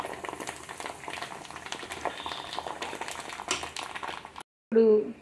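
Amla and tamarind fry in oil for an amla pachadi, a continuous bubbling sizzle that holds steady for several seconds, cuts out briefly, then returns louder for a moment.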